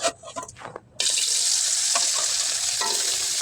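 Tengra fish frying lightly in a pan, a quiet second of faint clatter first, then a loud, steady close sizzle with a few brief crackles and stirring sounds.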